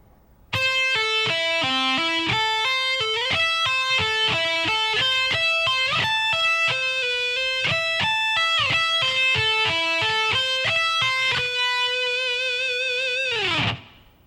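A slow, distorted electric guitar lick, clear separate notes climbing and falling, ending with a long note bent downward.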